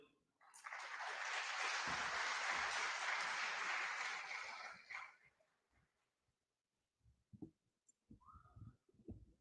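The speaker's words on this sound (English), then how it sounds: "Let's give him another round of applause" A long burst of broad, noisy crowd applause at the announcement of the 2024 CSEC and CAPE results swells and holds for several seconds, then fades out, followed by scattered voices and shuffling.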